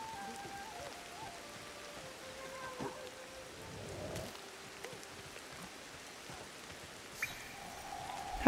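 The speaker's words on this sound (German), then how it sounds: "Wir sind schon eine Zeit lang im Regen" Rain falls steadily in the prehistoric survival game Ancestors, a soft continuous patter with a few faint in-game tones and small thumps scattered through it.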